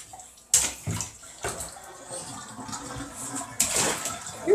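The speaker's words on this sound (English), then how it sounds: "You just sat on the thing and letting the water out." Water sloshes and drains from a home bathtub with a child in it, with bursts of splashing and gurgling amid quieter running water, close by.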